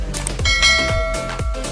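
A bright notification bell chime rings out alone, struck several times in a quick, even rhythm with ringing tones that sustain between strikes, close and loud.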